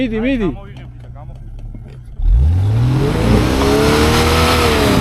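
After a brief voice and a quiet pause, a car engine suddenly roars and revs loudly, rising in pitch as the car pulls away through snow after being stuck.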